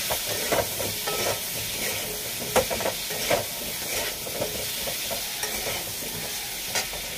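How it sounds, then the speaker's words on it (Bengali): Turmeric being stirred into food in a pan: a steady frying sizzle runs throughout, broken by repeated scraping strokes of a spoon against the pan at irregular intervals, close and fairly loud, with no talking. "এটাকে নাড়াচাড়া করে এটাকে একটু ঢাকা দিয়ে রাখবো"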